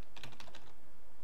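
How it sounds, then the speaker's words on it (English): Quick clicking keystrokes on a computer keyboard while typing Japanese hiragana, a short burst of taps close up that ends in quiet. "Oh, I'm typing it in hiragana."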